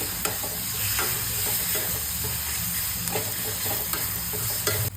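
Turmeric, chili, coriander and cumin powders fry in hot oil for a rajma curry, giving a steady close sizzle with small stirring scrapes throughout and no talking.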